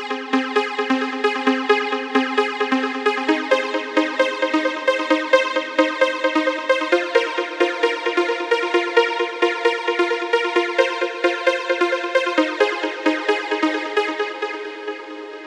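A soloed synth pluck patch from a trance track plays a steady, rhythmic sequence of short plucked notes. The same melodic pattern repeats evenly and fairly loud, with the pitches shifting in places and nothing else underneath.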